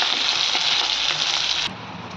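Loud, steady sizzling of fish roe frying in hot oil, close up, cutting off abruptly near the end to a quieter hiss.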